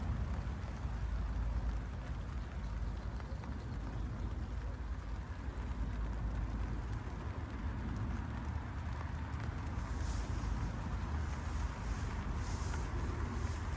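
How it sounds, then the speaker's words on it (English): Heavy rain pours down steadily outdoors, a dense, continuous hiss with low rumbling wind noise buffeting the microphone throughout, no voices over it. "it's raining pretty hard now"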